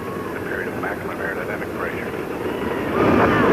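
Space Shuttle Challenger's main engines roar at liftoff on its sixth flight, a broad, steady rumble heard from a distance and growing louder near the end, with a commentator's voice over it.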